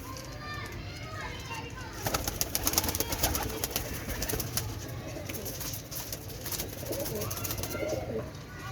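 Neela pigeons kept at home coo steadily in the background, with children's voices and general household bustle mixed in over the whole stretch.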